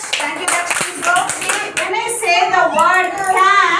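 Lower kindergarten children clap as a group for a classmate named Dash, rapid overlapping hand claps up close in a classroom, with a teacher talking over and after the applause.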